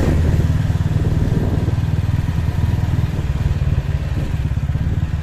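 Motorcycle engine running steadily on a street in Cacimba de Dentro, a loud, close, continuous mid-pitched drone with rapid pulsing throughout, with no talk.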